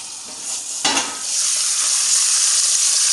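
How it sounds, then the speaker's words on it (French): Tilapia with cherry tomatoes simmers in a partly covered pan, giving a steady, close hiss of sizzling oil, briefly broken by a sharp clunk early on before the sizzle swells and carries on alone. "Je le couvre un tout petit peu. Donc je le laisse mijoter pendant quelques minutes."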